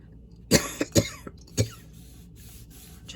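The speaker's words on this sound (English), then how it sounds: "I don't know why I've got a cough all of a sudden." Three or four sharp coughs in quick succession, close and loud, followed by quiet breathing.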